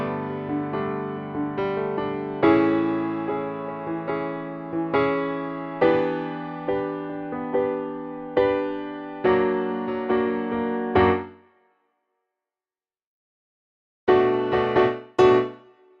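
A piano plays the closing tag of a song in a series of accented chords, each decaying before the next. It stops into silence, then a few quick final chords ring out near the end.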